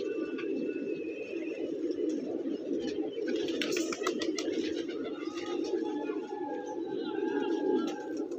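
Many pigeons coo in a loft of about 350 fancy colored pigeons, a steady dense murmur of overlapping low coos throughout, with a few faint higher chirps mixed in.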